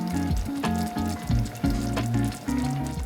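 An egg frying directly in a pan of reheated potato curry with shredded leek, with a steady close sizzle and crackle beneath a tonal musical backing.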